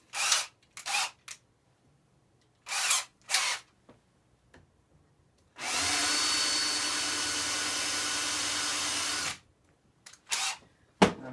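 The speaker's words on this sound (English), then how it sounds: "And then I'm also going to countersink it." A power drill countersinks a hole in wood, whirring steadily for about four seconds near the middle. Short drill bursts and clicks come before and after it, close and with quiet gaps between.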